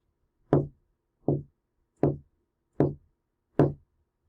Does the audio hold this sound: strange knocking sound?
yes